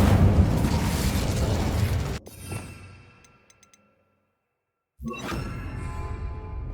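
A burst of the Incendio fire spell in Hogwarts Legacy: a loud, close whooshing blast that cuts off abruptly into near silence, followed a moment later by another sudden, fiery roar.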